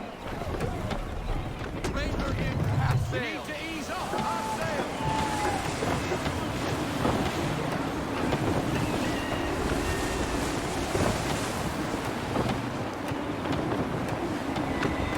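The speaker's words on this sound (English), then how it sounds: "Gusty winds can be difficult to manage." Gusty wind sweeps over open sea while sailing in Assassin's Creed 3 Remastered, a steady, loud rushing roar mixed with surf that stays continuous and close throughout.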